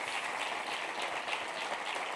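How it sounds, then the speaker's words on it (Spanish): A church congregation applauds during a sermon, producing a steady, dense wash of clapping from many hands throughout, at moderate level with no talking. "dale un aplauso al Señor"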